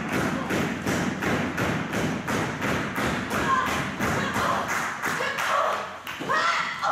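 Repeated strikes to an opponent's spine during a women's professional wrestling match, landing as a steady series of loud thuds amid constant crowd noise.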